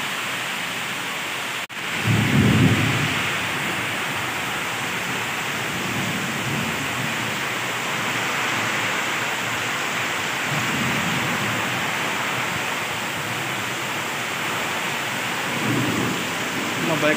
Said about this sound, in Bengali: সকাল সকাল প্রচণ্ড বৃষ্টি হচ্ছে।